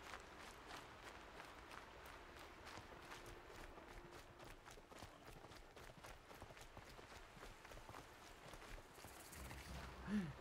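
Rapid, rhythmic clip-clop of horse hooves at a run in the game Horizon Zero Dawn, steady and moderately close, with faint game-like ambience and a brief thump near the end.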